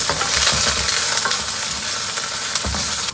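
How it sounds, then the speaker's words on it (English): Lettuce hits hot oil in a wok after aromatics for a stir-fry with fermented bean curd, a loud, dense, continuous sizzle with a few stirring knocks, close and with no voices. "A touch more oil, and immediately lettuce goes in."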